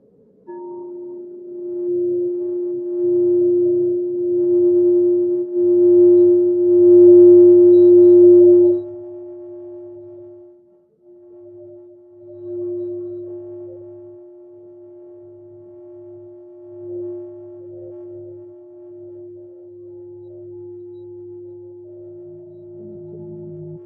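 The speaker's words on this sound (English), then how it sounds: "Listen to that ringing." A sustained pure ringing tone, like a singing bowl or bell, used for mindfulness listening, rings loud and steady, fades after about nine seconds, then lingers more softly.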